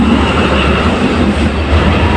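Awam Express passenger train pulling into Ghotki railway station behind a ZCU diesel locomotive, a loud steady rumble of rolling wagons and wheels close by on the down platform with no speech.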